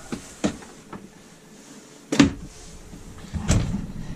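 Cabinet drawers in a 2019 Coachmen Chaparral 392MBL fifth-wheel RV open and shut, giving several sharp close thumps and clacks spaced a second or two apart with soft sliding in between.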